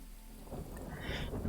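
Rain patters steadily as thunder rumbles low in a VR fishing game, the storm swelling louder toward the end of the short stretch.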